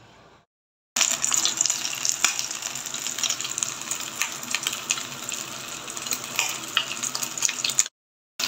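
Chicken chtitha sauce bubbling in oil, a loud, dense sizzle and crackle that starts suddenly and runs steadily for several seconds before cutting off.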